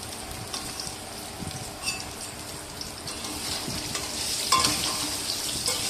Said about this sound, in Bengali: তারপরে হলুদ মাখিয়ে আলুগুলো তেলে দিয়ে ভেজে নিলাম।